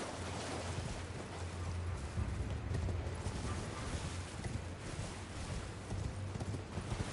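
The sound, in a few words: horse galloping in Elden Ring video game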